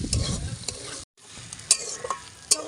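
Banana flower cooks with sugar in a pan on low heat while being stirred, a soft close sizzle with a brief cutout and a few crisp spoon scrapes against the pan, no voices.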